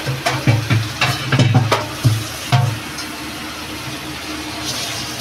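A mango roasting directly over an open fire, giving crackling pops and sizzling bursts up close, clustered early and then thinning out against a low steady hiss.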